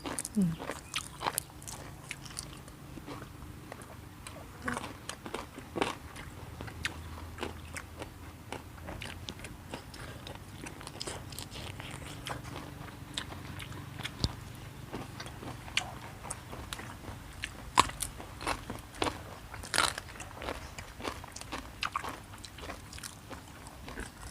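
Crunchy chewing of lin fa pods, with irregular sharp bites and crunches scattered over a quiet room background for the whole stretch, moderately close.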